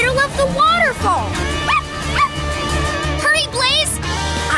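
A small dog yips and whimpers in short high cries over upbeat music, with excited voices calling out.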